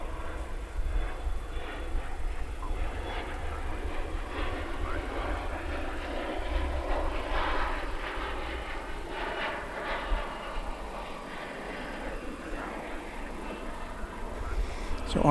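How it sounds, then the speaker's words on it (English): An American Eagle Embraer E-Jet airliner at DFW Airport at night produces a continuous moderate jet rumble and whine, rising and falling gently throughout. "American Eagle E-Jet."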